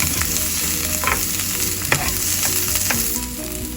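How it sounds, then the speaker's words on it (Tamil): Onion, green chili, ginger and garlic fry in hot oil for a mixed vegetable korma, a steady dense sizzle with scraping stir strokes and a few sharp spatula clicks, close and continuous, no voices. "இதில் வெங்காயம், பச்சை மிளகாய், இஞ்சி, பூண்டு சேர்க்கிறேன். இது ஒரு 1-2 நிமிஷம் வதங்கட்டும்."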